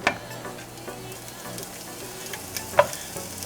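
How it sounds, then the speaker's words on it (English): Spam slices fry in a pan with a low, steady sizzle, punctuated by a couple of crisp spattering pops and light stirring, close by. "I have my pan here. I'm just going to place my Spam inside to start"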